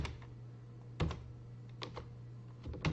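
Computer keyboard keys pressed while logging in on a CentOS system, a few sharp separated clicks spread over a few seconds, close and fairly quiet over a steady low background hum.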